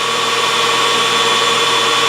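A G4003G metal lathe spindle runs in top gear at 1400 RPM during break-in, giving a steady loud mechanical whine and hum with no change over the short stretch, close by and without talking.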